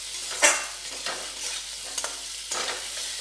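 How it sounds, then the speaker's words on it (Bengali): Potatoes for jeera aloo fry over medium-high flame while a spatula stirs and scrapes the pan in several separate strokes, with a soft, steady sizzle underneath. "এবার এটা আমি মিডিয়াম এবং হাই ফ্লেমে ভাজবো"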